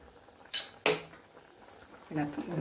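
A spoon knocks twice, sharp and metallic, against a pot of medicinal shallot rice kanji as roasted ground rice is stirred in. Brief quiet follows, then soft talk near the end.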